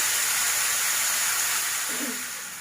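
Tamarind pulp and ginger-garlic paste hit a hot pan with a loud, steady broadband sizzle that fades slightly toward the end, with a brief clink near the close.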